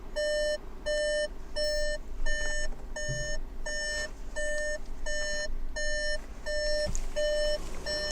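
A car's instrument cluster beeps steadily through a software update, a repeating run of even electronic tones with short gaps, close and clear over a low engine-bay hum.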